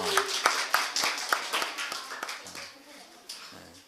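A church congregation claps briefly for the children of Moses School during a Sunday service, with sharp, scattered claps fading out while a voice speaks over and after them.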